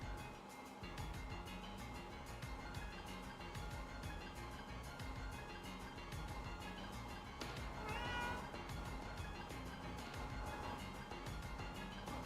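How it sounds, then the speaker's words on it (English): A house cat meows faintly in the background of a room, an indistinct cry beneath a steady wash of ambient noise. "Oh, that's your cat."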